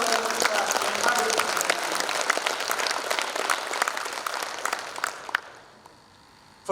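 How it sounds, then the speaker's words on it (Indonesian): Audience applauding at a university graduation ceremony in Gowa, Indonesia: dense, sustained clapping from a large crowd that fades out near the end, followed by near silence. "mari kita berikan tepuk tangan yang meriah kepada kedua orang tua kita yang hadir"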